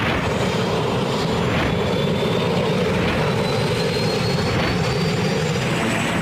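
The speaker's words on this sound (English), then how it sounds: "The helicopter lifts off on the Kobe side of the strait." A helicopter lifts off on the Kobe side of the Akashi Strait, its engine and rotors making a steady, loud, continuous drone with no voices.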